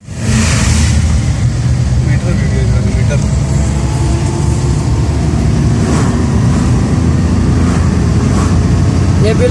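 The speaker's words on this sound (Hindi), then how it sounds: "ये हो गई गाड़ी एलपीजी पे स्टार्ट" Suzuki Bolan van, a 2020 model, running on LPG, its engine giving a loud, steady low rumble under light throttle for several seconds, close up.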